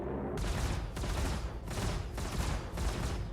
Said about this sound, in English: Okay, let's test this again. I'm gonna shoot.